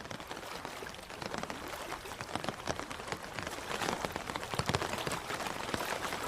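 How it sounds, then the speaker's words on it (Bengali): Heavy rain pours steadily in a night storm by a river, a dense hiss of drops spattering on surfaces that grows slightly stronger, with no voices over it. "আর সঙ্গে প্রবল বৃষ্টি আর বাতাসের শোঁ শোঁ শব্দ।"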